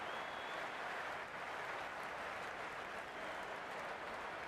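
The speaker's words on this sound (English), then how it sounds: "The spectators are absolutely buzzing right now." Large crowd at an IPL cricket match between CSK and MI in a packed stadium, giving a dense, continuous roar of cheering and applause that stays steady and distant-sounding throughout, with no clear voices standing out.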